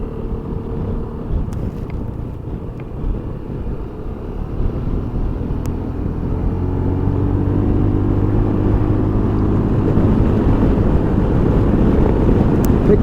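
A BMW C400GT scooter on a test ride, its engine droning steadily and rising slightly as it accelerates, heavy wind rush over the microphone throughout, close and loud.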